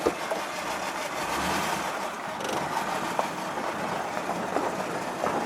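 A 1957 Ford Thunderbird engine fitted with a Holley carburetor runs steadily, a broad continuous rumble heard close by with small clicks and knocks on top and no talking.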